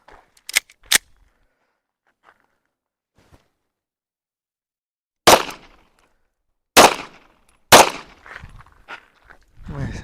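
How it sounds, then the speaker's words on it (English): Pistol gunshots fired into the dirt at an outdoor shooting spot crack out as three loud, sharp reports a second or so apart, preceded by a few fainter pops and clicks, with quiet gaps between. "I'm just going to be shooting here at the dirt because there's someone else shooting over there."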